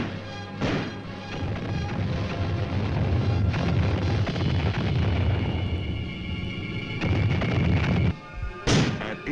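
Artillery and mortar fire during a Vietnam-era infantry attack, a dense barrage of heavy booms and crashing blasts that rumble continuously, with a few sharper impacts near the end.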